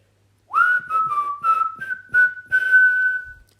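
A person whistles a short, clear melody of several connected notes, close and fairly loud, with no voices over it.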